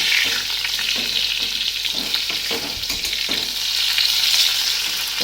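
Eggplant pieces frying in hot oil in a pan, a loud, continuous close sizzle with a few soft stirring scrapes and no voices.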